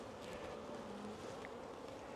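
Honey bees buzz steadily around an open hive during queen rearing, a dense, even drone that fills the whole moment at moderate level with no voices.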